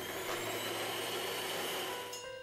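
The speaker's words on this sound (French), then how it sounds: "fouettez le tout à l'aide de votre batteur électrique pendant 1 minute" Electric hand mixer whisking sugar and vanilla sugar for a red velvet roll, a steady high-pitched motor whine with a constant buzzing drone, loud and close, running unbroken without talk.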